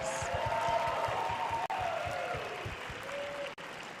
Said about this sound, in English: Let's give all the contestants another big round of applause.